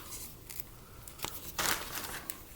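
Wax paper for a bead-ironing craft crinkles softly in a few brief bursts close by, the longest rustle about halfway through, in otherwise quiet surroundings.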